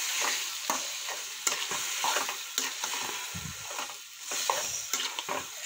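Cooked peanuts being stirred into eggplant bharta in a pan, with repeated scraping spoon strokes and a soft sizzle running underneath, close and fairly loud.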